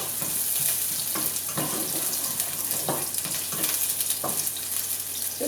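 Onions, garlic and ginger frying in a pan for Filipino sweet and sour chicken, a loud, dense hissing sizzle throughout with occasional soft scraping knocks, close by and without speech.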